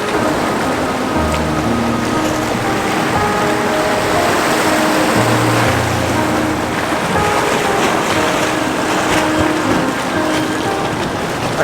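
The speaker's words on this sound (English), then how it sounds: "try and catch the water as it's flowing across this rock here in the foreground" Seawater washes across a foreground rock on a seashore, a broad, continuous rushing hiss like a small waterfall, loud and close with a few low rumbles underneath and no voices.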